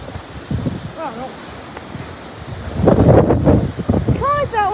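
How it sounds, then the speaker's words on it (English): Strong gusts of around 40 mph buffet the microphone with low, rumbling wind noise that surges and swells, while a person talks over the roar. "there's 40-mile wind gusts here and there"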